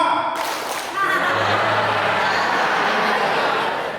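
An office audience claps on cue during a staff work-culture training session, a brief burst of dense group clapping that swells quickly and holds steady to the end, with a faint voice at the start.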